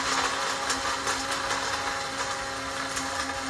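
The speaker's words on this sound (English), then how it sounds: "I already dumped some into a coffee grinder and I'll show you how we do it." Coffee grinder whirring as it grinds dried peas into powder for baby food, a loud steady motorized hum with a constant pitch that runs without pause from start to finish.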